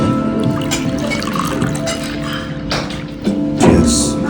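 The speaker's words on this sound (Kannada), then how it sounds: "ಹಾಕೊಳ್ತಾ ಇದೀವಿ, ಕುಡಿತಾ ಇದೀವಿ." Bottled water is poured into a glass, a steady close trickle and gurgle lasting several seconds, ending with a brief splash.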